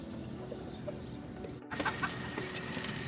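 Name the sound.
chickens clucking on a farm in Dubai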